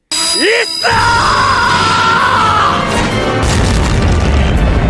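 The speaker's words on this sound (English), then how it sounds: "The resulting explosion is so intense it feels like it could bring everything to an end." An anime explosion: a loud, sustained blast roars with a rumbling low end and a ringing whine over it, then gives way to crackling noise.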